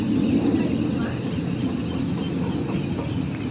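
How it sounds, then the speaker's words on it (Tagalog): Birds at a riverside campsite in Tanay call noisily and continuously against a dense outdoor din, steady and fairly loud throughout the evening scene. "Ang ingay na ng mga ibon."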